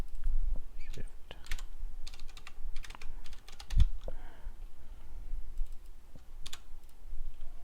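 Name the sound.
typing on a computer keyboard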